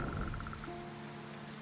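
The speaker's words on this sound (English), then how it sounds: "Nope, still raining." Steady rain falls in the video game Dead In Vinland, a constant close hiss that runs without a break through the short stretch, with no talking.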